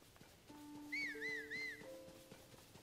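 A horse neighs and whinnies in Zelda: Tears of the Kingdom, a bright wavering call standing out over a quiet game backdrop, with low steady tones of music underneath.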